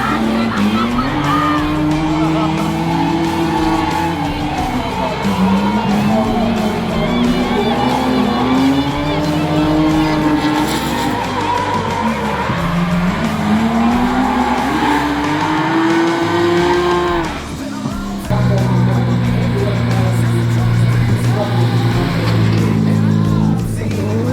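Race car in a hill climb race, its engine note rising and falling loudly as it brakes and downshifts, with tire noise and a sharp cut near the end. Commentary runs underneath.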